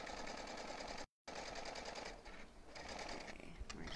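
A sewing machine runs steadily, backstitching a fabric face mask. Its close, rapid mechanical whirr stops for a brief moment, then carries on alone.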